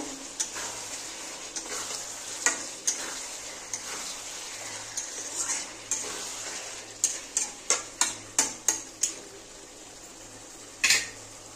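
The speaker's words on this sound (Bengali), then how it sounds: "এবার আমি মাছগুলো দিয়ে দেব। বেশি জল দেব না, এবার আমি কষিয়ে নেব।" Fish pieces fry in a pan with a thick spiced paste, a soft sizzle broken by a run of sharp utensil taps and clinks against the pan, close and fairly quiet, with no talking.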